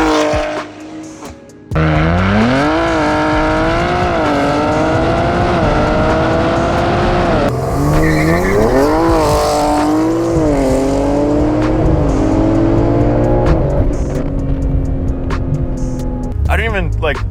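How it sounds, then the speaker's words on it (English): A BMW M3 launches hard with a loud, rising engine note that climbs through several gear shifts, tires squealing briefly, then roars past close by and fades as it pulls away. "All right, guys, here comes the M3."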